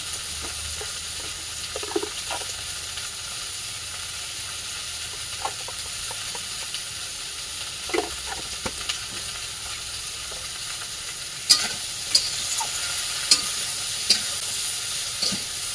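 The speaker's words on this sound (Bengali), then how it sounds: "তরকারিটা একটু কষিয়ে নিচ্ছি" A vegetable curry of kankrol (spiny gourd) shukto is sautéed and stirred in a pan, giving a steady low sizzle with occasional scrapes and clinks of the spoon, close and moderately quiet, with no talking.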